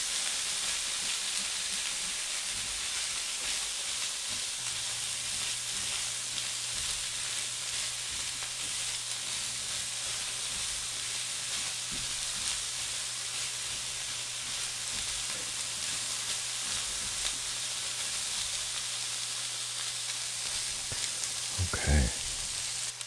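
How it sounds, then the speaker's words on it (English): Butter sizzles steadily in a pan as fresh corn is stirred for fried corn, a continuous close frying hiss with faint occasional scrapes and a brief louder clatter near the end. "And let's just stir that around, get that butter distributed."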